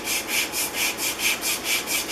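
A steel bench plane iron is rubbed flat back and forth on a lapping station, giving a close, even rasping scrape that repeats in a steady rhythm of about four strokes per second.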